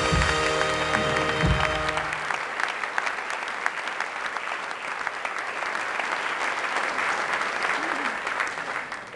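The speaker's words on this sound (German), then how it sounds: "einen wirklich starken Applaus verdient" Audience applauding an award acceptance speech by the artist Jacques Tilly, opening with a few tonal voice or music traces, then settling into dense, sustained clapping from a large crowd throughout.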